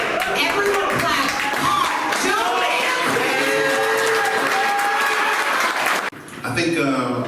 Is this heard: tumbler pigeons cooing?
no